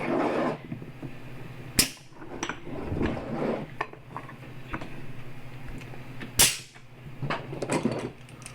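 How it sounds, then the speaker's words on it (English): Metal injection molds for soft-plastic fishing lures are clamped shut, giving two loud, sharp metallic snaps among lighter clanks, clicks and rattles of handling, heard up close with no speech. "While the plastic's cooking, I'm going to go ahead and clamp my molds."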